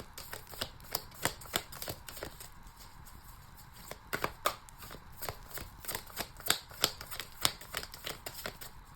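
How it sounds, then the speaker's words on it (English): Repeated crisp riffling and snapping of tarot cards being shuffled, close by, in quick bursts with brief pauses between, no voices. "One last shuffle."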